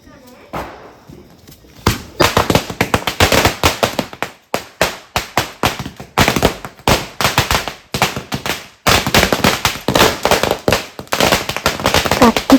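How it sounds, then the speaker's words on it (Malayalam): A row of small firecrackers set off in a line during a Vishu festival celebration in Kerala, bursting in rapid, loud, close cracks that tumble irregularly for about eleven seconds after a brief quiet start. "കണ്ട ഇങ്ങനെ വരി വരിയായിട്ട് വെച്ചെടുത്തിട്ടുണ്ട് ചെറിയ പടക്കങ്ങളൊക്കെ."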